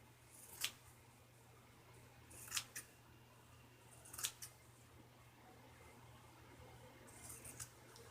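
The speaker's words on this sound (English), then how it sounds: "I got me some new scissors that is appropriate for cutting this" Scissors cut through a fabric bed sheet in a few quiet, sharp snips spaced a second or two apart, faint against a low steady background hum.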